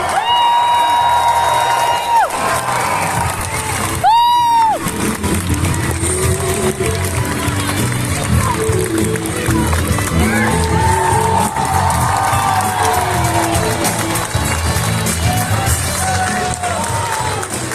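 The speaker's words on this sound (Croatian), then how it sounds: "Ajmo veliki aplauz!" A large crowd at a homecoming celebration in Čačak cheers, whoops and claps under a host's loud announcements, with a constant roar and scattered shrill yells rising above it.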